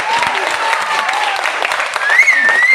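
Seminar audience applauding for direct selling at a business event in Bilaspur, Chhattisgarh, a continuous dense crowd clapping throughout, loud and near, with a voice over it toward the end.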